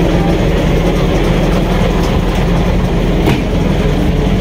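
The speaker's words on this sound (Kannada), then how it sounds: "ಸೊ ಇದೇ ಟ್ರೈನ್, ಇದರಲ್ಲೇ ಬಂದಿದ್ದು ನಾವು" The Snowdon Mountain Railway train in Wales, near the summit almost a kilometre above sea level, fills the clip with a loud, steady rumble and no talking.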